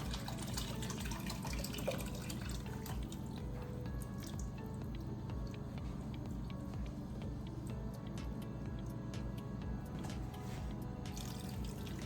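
A quarter cup of water is poured into a cooking pot of dinner ingredients, giving a steady, soft splashing and trickling that runs on for about twelve seconds without talk.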